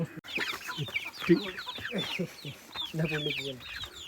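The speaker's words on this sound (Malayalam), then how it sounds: "ഇതേ ഭംഗി പോലെ തന്നെയുള്ള ഒരു പൂവൻ അത് അവിടെ നിൽക്കുന്നു" A rooster among ducks and fancy chickens clucks repeatedly at close range, in short irregular bursts, with other birds faintly chirping behind.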